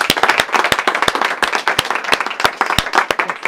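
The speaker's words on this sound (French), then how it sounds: "On peut l'applaudir" Small audience at a talk on burnout prevention clapping for a presenter, a close, loud patter of individual hand claps with distinct sharp strikes, steady for several seconds.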